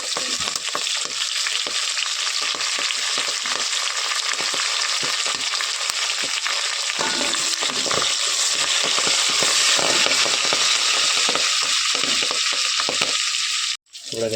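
Fenugreek leaves frying in a pan while being stirred for a home-style biryani: a loud, dense, continuous sizzle with crackles and rough stirring scrapes that runs throughout, then drops out abruptly just before the end.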